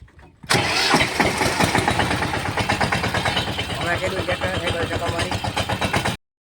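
A tractor engine starts on its self-starter after a brief click, then settles into a loud, close idle with a rapid, even chugging pulse until it cuts off abruptly near the end.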